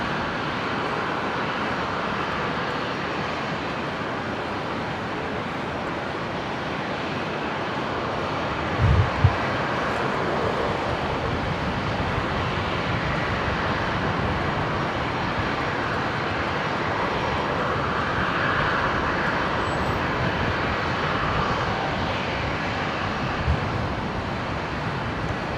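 Boeing 737 airliner engines at Brisbane International Airport give a steady distant roar and broadband rumble, sustained throughout with a brief thump partway.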